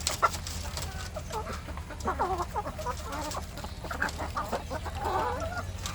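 Adult kampung chickens clucking in a coop, a steady run of overlapping clucks and soft calls at moderate distance over a low constant hum, with no voices.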